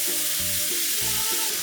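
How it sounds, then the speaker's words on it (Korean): Quail eggs and fish cake stir-frying in a pan, a steady close sizzle with scraping stirs every half second or so, no talking. "어묵도 같이 넣어 노릇하게 볶아줍니다."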